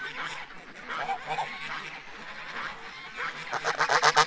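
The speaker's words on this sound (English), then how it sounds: "It's always the same geese that come up." Geese honk in a series of nasal calls that quicken into a rapid burst near the end, heard against rain in an outdoor setting, with no talking.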